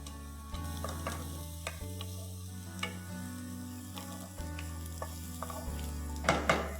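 Three medium finely chopped onions, salted, fry in a pan for a chicken masala curry, a low sizzle broken by periodic spoon scrapes and clinks alongside a steady background hum, with no talking.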